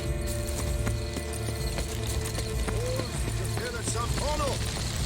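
Horse hooves clip-clop at a steady trot in The Witcher 3: Wild Hunt, Blood and Wine, a rhythmic patter under constant background music and ambient game sound, with brief voice-like tones near the end.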